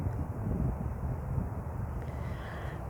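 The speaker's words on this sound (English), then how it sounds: "It's windy here." Wind gusting outdoors on a cold afternoon, a constant low buffeting roar with microphone rumble, loud and unbroken, with a faint distant engine drone beneath.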